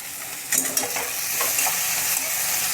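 Thickly cut tomatoes stir-fry over high flame in a kadhai for egg biryani, giving a loud, dense, continuous sizzle close by, with a few scraping stirs early on and no talking.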